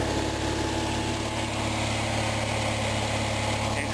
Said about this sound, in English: It sounds a lot better than it did, I gotta tell you. It's up and running.